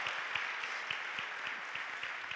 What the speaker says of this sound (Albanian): Një duartrokitje për Blerta Kasallën.